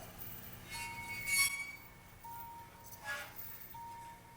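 A glass bowl with its lid sets up a thin, eerie ringing tone that wavers and swells in a few soft pulses, fairly quiet and unaccompanied.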